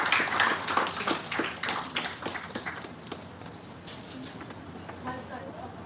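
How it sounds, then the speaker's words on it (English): Audience applause at an endowment lecture: a steady patter of many hands clapping, louder at first and then thinning as it fades, with a voice briefly audible. "Please join me in extending a warm round of applause."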